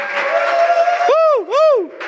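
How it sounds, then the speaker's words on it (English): An evening audience cheers a speaker called to the stage: crowd murmur leads into two loud, rising-and-falling whoops from a nearby voice, with a bit of background noise from the crowd. "Please, guys, give a round of applause to Muni to the stage."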